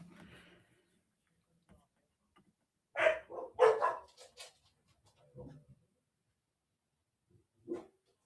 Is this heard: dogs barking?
yes